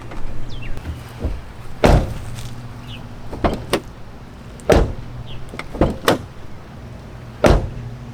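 A truck door fitted with a new handle opens and shuts repeatedly, giving sharp clunks and latch clicks at irregular intervals over a faint steady hum.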